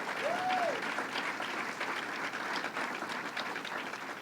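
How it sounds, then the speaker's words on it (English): A fair crowd applauds steadily with dense, even clapping that carries on without a break, and a brief whistle-like tone rises near the start. "Let's give him a big round of applause and thank him very much."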